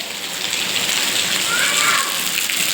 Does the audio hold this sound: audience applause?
no